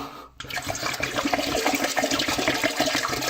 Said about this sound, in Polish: No i dobra, lejemy wodę do pełna.